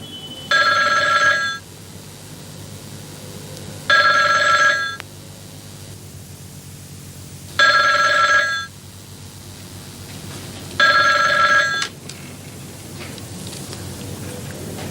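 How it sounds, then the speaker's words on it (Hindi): An old-style telephone bell rings four times in evenly spaced bursts, loud and close, with a steady hiss between rings. "ये तो फोन की घंटी है"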